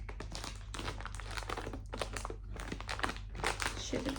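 Plastic wrapping on a package crinkles and crunches close by as it is pulled open by hand, in quick irregular bursts.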